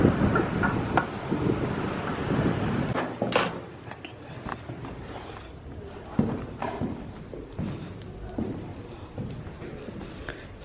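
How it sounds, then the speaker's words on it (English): Wind buffeting the microphone at the top of Doune Castle in Scotland, loud gusty rumbling that eases after a few seconds into steadier blowing, with scattered knocks and footsteps. "It's windy up here."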